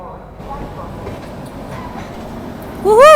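The Howrah Rajdhani Express rumbles steadily from the rail line, then a loud, close horn blast with a rising and falling pitch sounds near the end.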